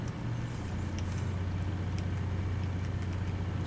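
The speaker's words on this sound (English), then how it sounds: "it does sound like a real fire truck" Fire truck engine 21 in Farming Simulator 19 idles with a steady, low rumbling drone that holds constant throughout, close and moderately loud, with no one talking.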